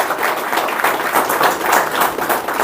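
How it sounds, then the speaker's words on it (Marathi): An audience at a felicitation event on Independence Day in Kopargaon applauds in thanks, a dense, steady clapping from many hands that fills the whole moment. "सर्वजण एकदा त्यांचे टाळ्या वाजून धन्यवाद व्यक्त करू"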